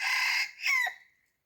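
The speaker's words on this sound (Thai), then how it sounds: "โอ้คันอยู่ผู้ไก่เลย" A rooster crows in the forest countryside, a single short, fairly close call with two rising phrases that cuts off abruptly into silence.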